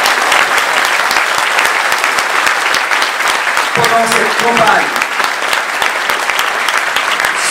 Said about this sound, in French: et on peut les applaudir. Je vous demande de le faire.